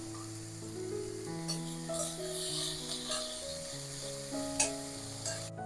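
Chopped capsicum sautés with salt in a pan, a steady soft sizzle with occasional stirring scrapes, while sustained musical tones play over it.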